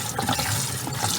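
Sliced bitter gourd being rinsed under water, a brief, close, steady splashing rush of running liquid.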